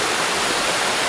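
Creek water rushes steadily beside a mountain trail, a continuous, fairly loud broadband wash with no voices over it.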